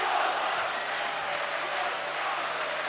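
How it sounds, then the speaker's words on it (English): A roaring arena crowd of about 25,000 fans at the Steve Collins v Chris Eubank WBO super middleweight title fight, cheering for Collins as a continuous wash of noise, fairly distant and even. "The crowd trying to lift him,"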